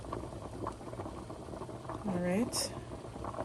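Potatoes boil in a pot of water with a steady, close bubbling and churning that runs throughout, while a person speaks briefly over it.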